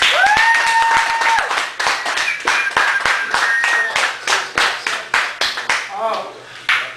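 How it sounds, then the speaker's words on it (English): Sharp, distinct hand claps from a small audience at a poetry feature in a Chicago cafe, fairly close and spaced rather than dense, thinning toward the end while a tone sounds under the first half. "Ladies and gentlemen, a round of applause for our musician"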